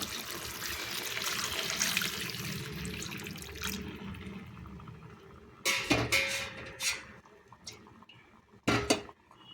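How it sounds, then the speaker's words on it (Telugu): Tamarind juice is poured into a pot of Telugu-style fish curry, making a steady wash of liquid for a few seconds, followed by a few sharp clinks and knocks of utensils against the pot. "ఇప్పుడు ఇందులోకి చింతపండు పులుసు అయితే పోసుకున్నామండి"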